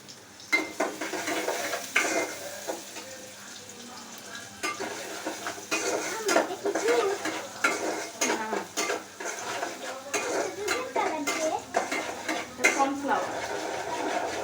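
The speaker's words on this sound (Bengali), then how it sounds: "আদা কুচি দিয়ে ভালোভাবে নাড়তে হবে।" Chopped ginger, onion and garlic are stirred in sizzling oil in a pan, with steady frying hiss, a spoon scraping and clinking against the metal in irregular strokes, and a voice speaking in the background.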